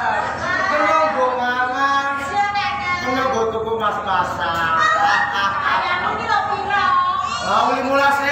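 Muscovy ducks honk and call repeatedly in a steady stream over about eight seconds, fairly loud and close, with voices and chatter mixed in throughout.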